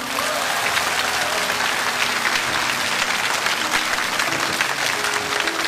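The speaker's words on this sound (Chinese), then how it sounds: "请鼓掌。" A large audience breaks into sustained, dense applause in a speech hall, steady and loud throughout with no talking over it.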